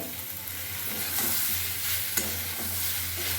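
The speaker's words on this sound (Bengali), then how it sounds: "এবার আমি এই ডালিয়াটা দিয়ে নিলাম।" Broken wheat fries with moong dal and mixed vegetables in a pan, giving a steady close sizzle with occasional scraping stirs and a soft clink, and no voices.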